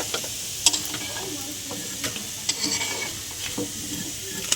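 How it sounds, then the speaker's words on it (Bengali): Chicken and potato pakoras fry in hot oil with a constant close sizzle, broken by occasional scraping and clinking as a utensil stirs and lifts them. "আমাদের পকোড়াগুলো সব ভাজা হয়ে গেছে, চিকেন পকোড়া আলু দিয়ে তুলে দিচ্ছি"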